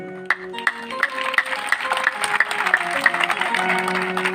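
A congregation at a big healing prayer meeting in Amritsar, Punjab, bursts into a short round of clapping that builds quickly over a faint musical hum.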